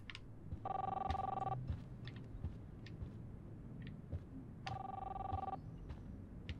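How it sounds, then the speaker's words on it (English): An in-game telephone rings in Life is Strange Episode 3, two distinct electronic rings about three seconds apart, each lasting about a second, fairly quiet against faint background sounds. "That's the phone call, isn't it?"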